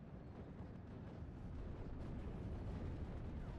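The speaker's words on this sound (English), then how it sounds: "We've got artillery getting ready to pound these guys" Artillery bombardment in the Steel Division WWII strategy game, heard as a low, steady rumble of distant shelling that swells slightly midway, with no distinct individual blasts.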